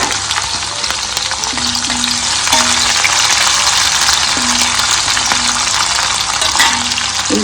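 Chopped onions frying in a pan for sago upma give a steady, loud, close sizzle that runs without a break, with faint stirring scrapes now and then.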